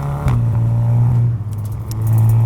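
A tuned Volkswagen Mk7 Golf R driving on a winding road, its engine droning loud and close with a steady low hum that briefly dips and then builds again.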